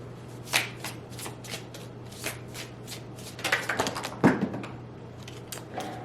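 An oracle card deck is shuffled by hand in a quiet room, with a run of crisp riffling bursts and soft flicks spread over several seconds and a steady low hum behind them.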